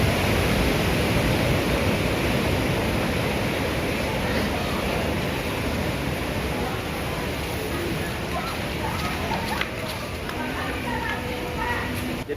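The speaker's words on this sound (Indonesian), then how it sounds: "adanya deburan ombak. Bisa dilihat sebelah kanan kita" Ocean waves crash against the rocks at Pura Batu Bolong on Lombok with a loud, continuous broadband roar of surf and spray. The roar carries on steadily and stays close.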